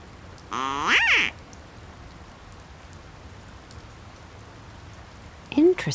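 Two separate duck quacks in the Secret Files 2 game world, a loud harsh burst near the start and a shorter one at the end, with soft rain-like ambience filling the gap between them.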